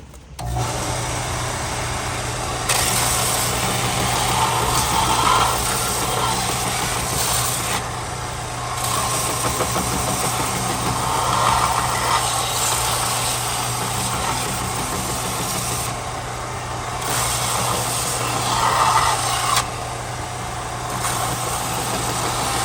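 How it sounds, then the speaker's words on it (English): A belt sander hums steadily as it rounds and smooths the cut edges of a Kydex double magazine carrier for an H&K VP9, with the abrasive rasp rising and falling as the piece is pressed on and lifted away. "I'm going to take it over to my belt sander, and I'm going to go ahead and round off and smooth the edges"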